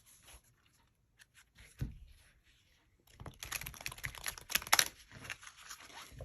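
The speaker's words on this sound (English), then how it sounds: "So I'm doing my side shuffle, and it's real easy to shuffle this indie deck." An indie tarot deck with coated cardstock is side shuffled close up, giving quick papery riffling and flicking bursts that grow denser and crisper toward the end.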